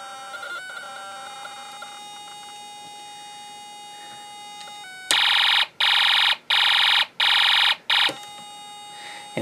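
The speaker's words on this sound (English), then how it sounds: "the paperclip starts vibrating and it produces a fairly high frequency." Paperclip buzzing against an iron core rod in a Snap Circuits electromagnet project, a loud shrill high-pitched tone pulsing in about five evenly spaced bursts after a quieter electronic hum.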